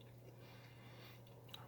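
Soft, close chewing of a spicy cayenne jelly bean, with faint wet squishes over a low steady hum.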